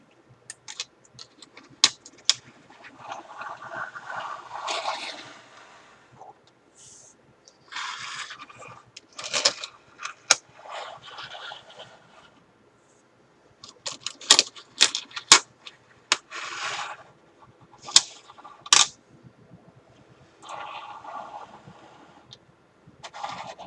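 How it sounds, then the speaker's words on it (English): Metal coins dumped out and sorted by hand in a quiet indoor setting, giving bursts of clinking and sliding with sharp individual clicks and pauses between handfuls, close and fairly soft, with no talking. "let's start separating the different coins"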